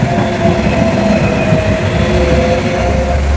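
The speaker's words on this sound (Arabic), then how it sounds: "شفتوا الترام اللي عدى ده؟" A tram passes along a wet city street during rain, a loud, steady rumble of wheels on rails with a faint squealing tone and no talk.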